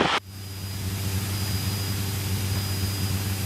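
Aircraft engine drone during a landing approach, a steady loud low hum with a sustained tonal whine, preceded by a brief burst of rushing noise at the very start.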